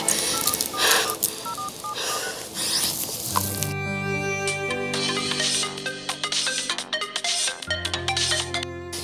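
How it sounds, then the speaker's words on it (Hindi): Telephone keypad tones beep in a quick sequence, followed by a steady electronic ringing tone that repeats, clear and close. "ये कामना की बच्ची फोन क्यों नहीं उठा रही?"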